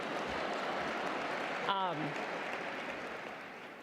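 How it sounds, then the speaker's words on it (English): Audience applause fills a conference opening plenary, a steady, even wash of clapping with a brief voice cutting through near the middle before the sound eases off slightly. "We can clap for that."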